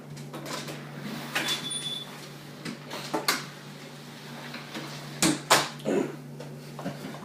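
A household door slides and clunks open and shut to let a dog outside, producing several scraping rolls and sharp knocks close by over a steady low hum, with no speech.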